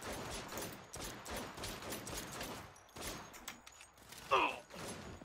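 Rapid, rolling cannon gunfire in the Saints Row video game: a steady barrage of overlapping shots that runs throughout, with one sharper, louder blast near the end.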